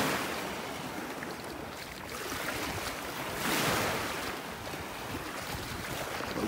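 Surf washing onto a beach in North Naples, Florida, a steady wash of breaking waves with a fuller swell near the middle, mixed with light wind rumble on the microphone and no voices.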